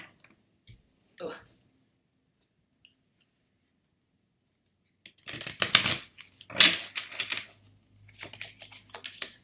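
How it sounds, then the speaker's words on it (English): Tarot cards being shuffled and pulled, a few soft isolated card flicks, a long quiet gap, then brisk bursts of riffling and snapping cards close to the microphone. "let's pull some tarot cards."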